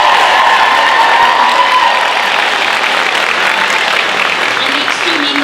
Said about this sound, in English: So one more big round of applause.